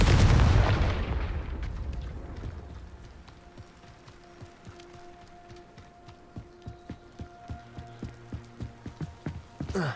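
A Confringo blasting spell in Hogwarts Legacy opens with a loud, booming explosion that decays into a crackling rumble, followed by a run of sharp, rhythmic ticks and thuds.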